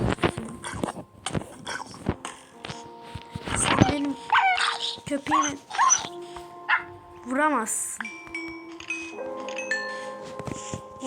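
Minecraft dog sounds, short whines and yips, scattered among footsteps, impacts and other effects, with a voice talking throughout.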